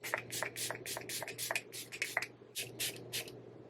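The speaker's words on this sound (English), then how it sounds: "I will spray the Rare Beauty on this side of my face and the Milani on this side of my face" Makeup setting spray is misted onto a face in a series of short, quiet hisses, about a dozen quick spritzes in an uneven rhythm, close to the microphone with no talking.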